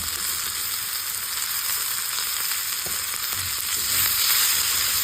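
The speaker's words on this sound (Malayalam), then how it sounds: "നമുക്ക് ഉള്ളി നല്ല വഴറ്റി കൊടുക്കാമേ" A steady close sizzle of onions sautéing in a pan for onion chammanthi, continuous and even, with a couple of faint scrapes and a slight swell toward the end.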